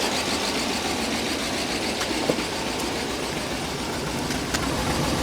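A 1998 BMW 740iL idles rich just after its first start on a new fuel pump, giving a steady, close, unbroken engine and exhaust rumble with no talking.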